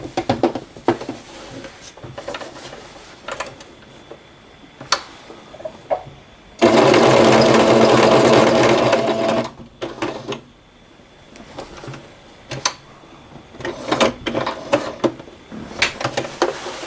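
A sewing machine stitches a patch onto a sports jersey, running in one steady, loud whirring burst of about three seconds mid-clip, surrounded by scattered clicks and taps of handling the fabric and machine.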